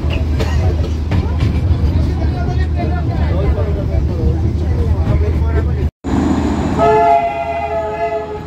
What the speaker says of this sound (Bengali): এই যে আমাদের টয় ট্রেন এখন ছাড়লো বাতাসের লুপ থেকে।